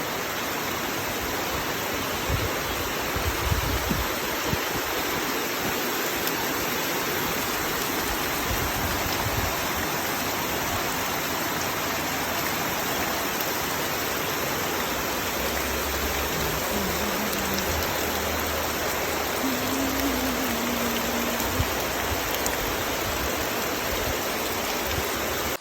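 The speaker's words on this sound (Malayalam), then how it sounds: "കേൾക്കുന്നുണ്ടോ മഴയുടെ ശബ്ദം?" Heavy rain pouring outside during a windy downpour, a dense, even roar of falling water lasting the whole stretch, steady and close, with a faint low hum near the end and no talk.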